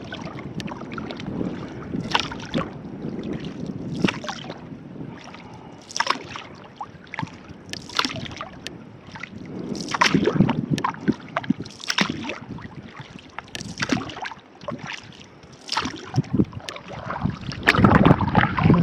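Solo canoe paddling on Little Rush Lake in the Boundary Waters: repeated paddle strokes splash and slosh in an uneven rhythm roughly every second or two, close up, with wind buffeting the microphone.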